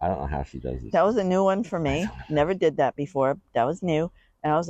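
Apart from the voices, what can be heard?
None of the usual background noises is heard.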